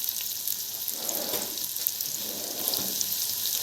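Rice frying in fat with a Maggi stock cube, sizzling steadily at a low, even level while a spoon stirs it in a few soft, scraping passes.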